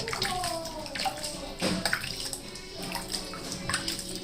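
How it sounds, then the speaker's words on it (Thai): Sago pearls being rinsed in a bowl of water, with steady close sloshing and splashing as water is scooped and stirred, a brief louder splash midway. "เดี๋ยวเรามาล้างสาคูก่อนนะคะ"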